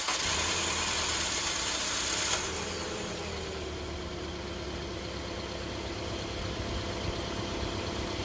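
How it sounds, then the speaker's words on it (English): A car engine fires up from a cold start after its battery terminals were cleaned, then settles into an even, low, steady idle. "we're gonna go and start the car and see how much better it sounds."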